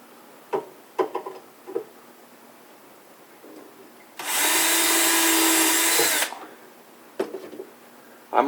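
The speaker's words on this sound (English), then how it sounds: "I'm only going to drill 2 holes and put 2 screws in it at this point" A power drill runs in one steady, loud burst of about two seconds while boring a hole in a cabinet for epoxy-coated drawer slide screws, with a Vix bit fitted. Scattered clicks and handling knocks come before and after.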